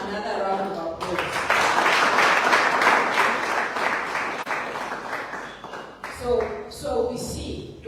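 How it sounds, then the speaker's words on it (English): A meeting audience breaks into applause that holds steady for about five seconds, then thins out as voices take over. "Let's give him another round of applause."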